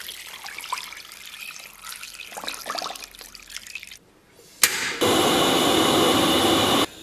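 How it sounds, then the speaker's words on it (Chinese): Water runs from a tap into a cooking pot holding lamb ribs, scallion, dried ginger, Sichuan peppercorns and dried chilies, first as irregular trickling and splashing, then after a brief clatter as a strong, steady pour that stops abruptly. "然后咱们给锅里边稍微来点水"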